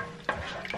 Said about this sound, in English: I'm just gonna give that a quick stir because sometimes it can just like settle